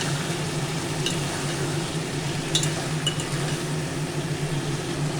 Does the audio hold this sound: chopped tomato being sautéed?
yes